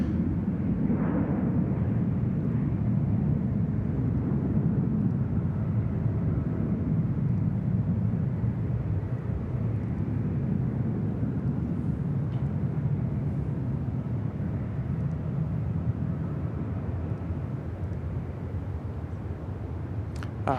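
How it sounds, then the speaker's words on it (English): A Qantas airliner arriving on runway 34 right at Sydney Airport makes a steady, low, rumbling jet roar that holds at an even level and eases off slightly toward the end. "Qantas 88, our next arrival here on runway 34 right."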